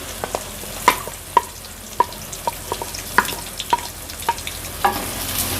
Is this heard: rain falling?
no